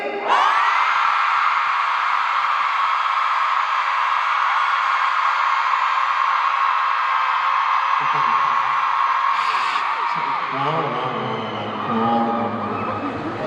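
A concert audience's middle section at a show yelling and screaming in one sustained roar, loud and dense, then dropping off into scattered voices and cheers near the end.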